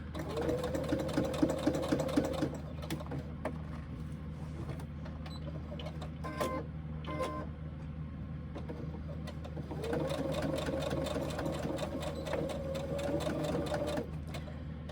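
A sewing machine stitches fabric pleats along a fold with a steady mechanical whir, running in two sustained bursts separated by a few seconds of quieter handling sounds.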